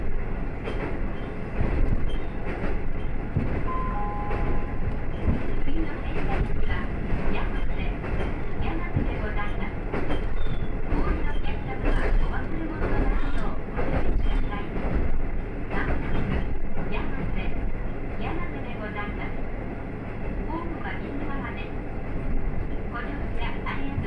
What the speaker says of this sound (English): The train ran along the Nishikigawa River and reached the mountains